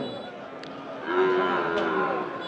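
Cattle and buffalo moo at a livestock market in Basunia haat, with a long, low, drawn-out call rising over a steady background murmur of the busy market.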